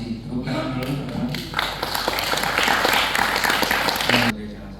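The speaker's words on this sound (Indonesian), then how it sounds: "Tepuk tangan dulu, teman-teman." An audience at a seminar on keris making, a traditional Javanese dagger craft, breaks into applause, a burst of dense clapping that swells and holds for a few seconds, framed by brief talk before and after.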